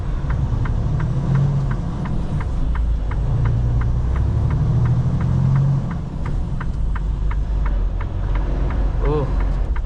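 A heavy semi truck hauls a load up a hill, its engine laboring in a deep, steady rumble with a rapid ticking pulse running throughout and a brief chime near the end.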